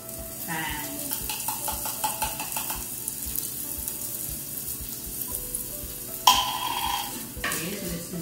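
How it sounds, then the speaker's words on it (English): Green peas sautéing in a pan for sardine pasta, a steady close sizzle with rhythmic stirring scrapes, and a brief louder hiss burst near the end. "saute that for a minute"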